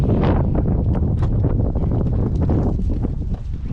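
Strong wind at Chenango Valley State Park buffets the microphone continuously, a loud rumbling roar with gusty rustling, no voices.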